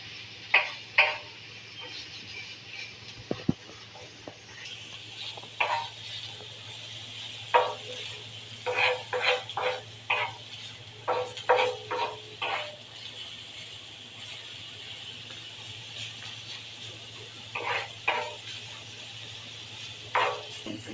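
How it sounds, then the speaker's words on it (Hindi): Sliced onions fry and brown in a pan, giving a soft steady sizzle under faint background hum, broken by scattered clicks and stirring taps over about twenty seconds. "हमने थोड़े से प्याज डाले हैं और इसका भी हम ब्राउन करेंगे"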